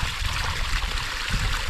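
Irrigation water flowing steadily into a dry rice paddy during hot weather, a loud, continuous close-up rush and gurgle of moving water, no voices.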